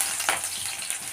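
Onion cut into large pieces and chopped garlic hit hot oil in a wok, giving a short, continuous sizzling hiss with a brief louder crackle.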